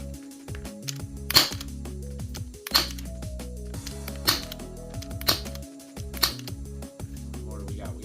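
A Tokyo Marui MK23 airsoft pistol firing BBs, giving several sharp, loud single cracks spaced roughly a second apart over steady background music.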